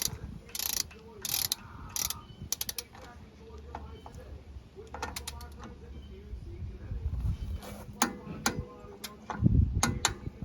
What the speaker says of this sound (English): So we're going to tighten this down to 47 foot-pounds.